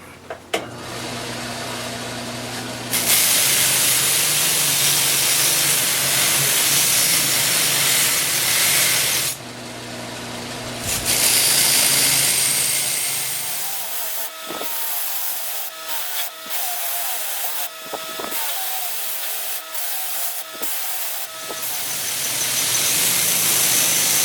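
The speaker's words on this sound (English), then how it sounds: "the sanding mop did a nice job rounding over the edges, removing all the fuzzies from there" Loud, steady abrasive whirring of a sanding mop rounding over wood edges, with the motor running long stretches, briefly pausing, then grinding on with intermittent scraping.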